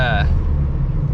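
A car engine idles with a steady low rumble; a brief tonal sound opens the clip before the even drone continues.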